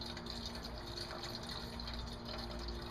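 Engine coolant draining from a Dodge, Jeep or Chrysler 3.7/4.7L engine during a thermostat replacement, a steady, even rush of liquid pouring close by, faint and continuous without talk.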